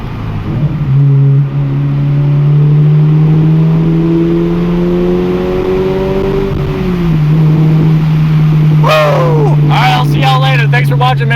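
A Subaru accelerates hard with its windows down, the engine drone climbing steadily in pitch, dipping briefly at a gear change, then pulling again with loud wind rush and a sharp whistling blow-off near the end.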